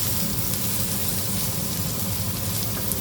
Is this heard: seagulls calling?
no